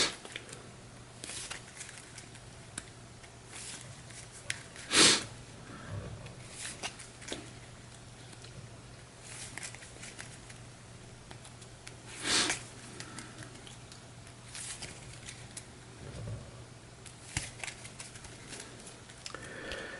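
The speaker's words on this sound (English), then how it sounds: "So we'll shuffle these up." Game cards for Pandemic Reign of Cthulhu being shuffled by hand on a table, soft papery riffles and patters at low level with a few sharper sniffs and rustles, no talking.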